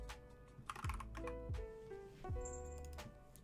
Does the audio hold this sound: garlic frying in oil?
no